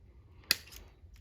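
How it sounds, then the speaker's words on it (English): A single sharp snip of cutters closes through a zip tie on the battery wires of a Harley-Davidson Heritage Softail. The click is brief and quiet against a low background. "cut the zip tie off."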